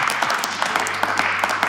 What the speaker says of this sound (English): I just want to give you a big round of applause with all of our pastors in the room today.